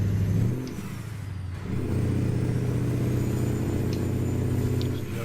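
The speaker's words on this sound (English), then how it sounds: "so you probably have the truck sounds then coming out of your speakers, right?" Truck engine in a trucking video game, a steady low diesel drone with a brief revving dip early on, then a sustained rumble that stays loud and close throughout, with no talking.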